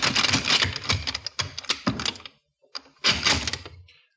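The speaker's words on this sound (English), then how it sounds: "The sergeant tried the door." A door is tried in a 1952 radio drama sound effect, giving a rapid series of wooden thunks and rattling cracks, a pause, then another short burst of knocking rattles close by.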